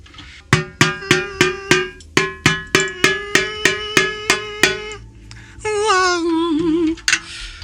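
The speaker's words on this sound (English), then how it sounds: "It's music, man, a drum. It has a tone." A steady run of about fourteen sharp, ringing drum hits with a clear pitched tone, followed by a brief wavering tonal sound and one final strike, from a 1975–1989 era drum kit.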